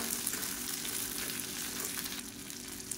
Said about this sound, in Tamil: இந்த வெங்காயம்லாம் நல்லா கலர் மாதிரி வதங்கட்டும்.